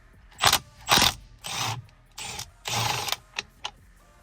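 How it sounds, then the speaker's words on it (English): Impact driver spinning off the 16 mm steering wheel bolt on a BMW 335i, heard as several loud, close rattling bursts of hammering, each about half a second long, with short pauses between them. "Impact driver."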